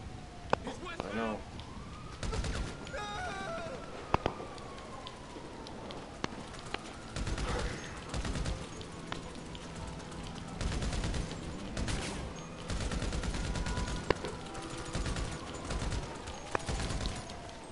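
Gunfire crackles in GTA amid a snowy online match, scattered bursts and single shots with siren-like wails and rain-like noise, while players talk over the action.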